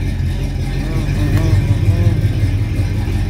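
A car starting up for the first time after sitting unused for 45 days settles into a steady, rumbling idle. A voice talks faintly over the engine throughout.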